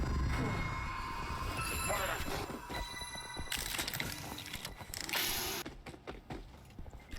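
A game sound cue from the horror game Sker Ritual marking that all three strangers have been found in the Ashes of Sker Hotel: a dense, grinding metallic drone with ringing tones and rumbling noise, loud and sustained throughout, no talk.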